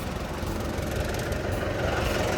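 A Komatsu 510 wheel loader with a four-cylinder engine idles close by, a steady low rumble with a faint knocking texture that holds even throughout, alone without voices.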